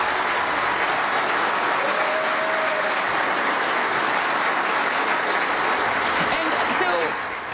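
A crowd at the CIA applauds and cheers steadily as Trump walks to the podium, a dense continuous roar of clapping with faint voices mixed in throughout.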